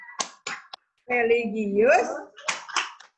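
Sharp rhythmic claps from a classroom Tepuk PPK chant come in short quick groups before and after a sung word, with a voice leading the chant.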